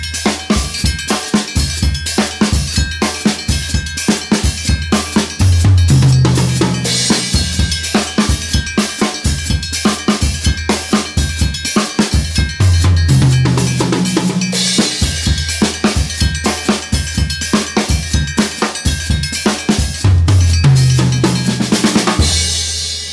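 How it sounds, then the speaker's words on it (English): A T'ing metal percussion instrument is struck in a fast, steady pattern of bright, ringing metallic hits, loud and close, with occasional accented lower notes recurring in a repeating groove. "the Ting can substitute for a brake drum sound"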